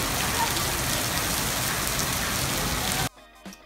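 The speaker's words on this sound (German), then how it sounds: "ich habe praktisch noch nie gesehen, dass es so fest geregnet hat" Very heavy thunderstorm rain in Australia hisses as a loud, dense, unbroken downpour close by, then cuts off abruptly near the end, leaving faint quiet with a brief soft knock.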